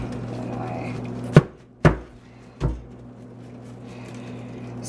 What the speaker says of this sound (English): Smash it to take the core out